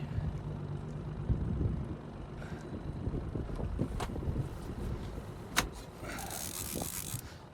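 Wind gusts across the microphone on a lake while trout fishing from a boat, a steady rough low rumble with the odd knock and brief hiss near and moderately loud, no talk.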